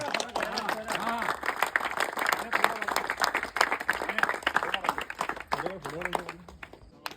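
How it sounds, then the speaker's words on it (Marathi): An outdoor crowd at a box cricket tournament prize ceremony claps loudly for the best batsman. The applause rises and falls over several seconds, mixed with voices, shouts and chatter. "सर्वांनी जोरदार टाळ्या वाजवायचे."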